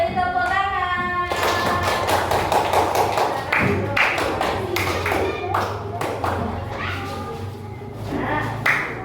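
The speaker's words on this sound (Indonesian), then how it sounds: "Kita beri tepuk tangan." A classroom of students claps in a loose burst of applause with irregular taps and thuds, and voices talk over it and around it.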